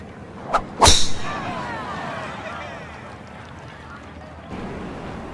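In the EA Sports PGA Tour video game, a tee shot is struck at the Kohler Open course beside Lake Michigan: a sharp club crack, then a whooshing ball flight that fades into ambient course noise.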